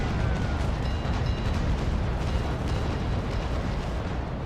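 Frigate cannons fire in the Naval Action video game, a dense rumbling barrage of booms that rolls on continuously and loudly for several seconds.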